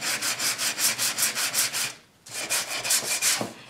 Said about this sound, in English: And you always sand it after you've done the wax.